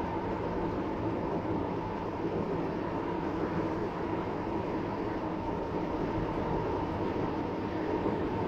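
Roblox SCR passenger train arriving at an airport terminal station on a shuttle service, a steady continuous rumble of wheels and motors under a faint high hiss, holding constant with no talk.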